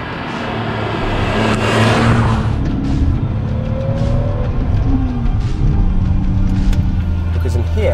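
A BMW Z3 with a traditional five-speed manual gearbox driving, its engine note rising and shifting through gears from inside the cabin, a continuous moderately loud drone.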